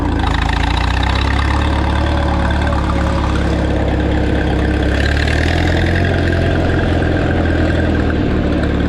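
Minneapolis-Moline 4 Star tractor engine runs loud and close with a steady low rumbling chug, holding an even throb while being shifted, with no speech.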